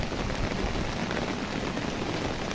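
A downpour seen from a rooftop fills the air with an unbroken, loud wash of falling water and pattering drops, nearby and constant.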